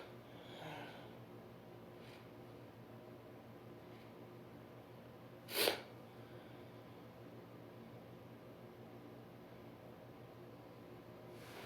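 A single short sneeze from a woman in a dark room, quiet and brief, cutting through a steady background hiss like a fan.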